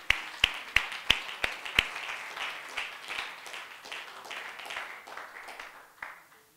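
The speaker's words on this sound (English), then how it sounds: "would you clap your hands unto the Lord?" A church congregation claps hands in worship: a few sharp, separate claps at first, then a steady wash of applause that fades out.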